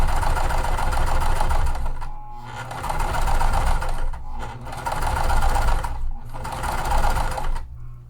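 A sewing machine top stitches a fabric tote in several steady whirring runs, each broken by short pauses, heard close and alone.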